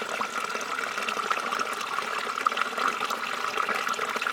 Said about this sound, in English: you want to go down to the creek?